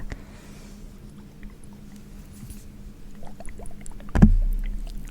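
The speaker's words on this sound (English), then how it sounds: "Maybe let's have some water noises before we begin." Soft, faint water sounds come from rehydrating Himi gouache paint in a quiet close-miked setting, low trickles and drips that build gently before a sudden louder splash or knock near the end.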